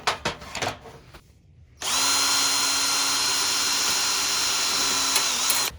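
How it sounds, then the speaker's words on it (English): A power tool cuts through 1-inch metal tubing, starting with a few short bursts before settling into a loud, sustained, steady high-pitched whine that runs close and unbroken to the end, with no one speaking. "let me cut that 1 inch tubing and kind of fit it in here."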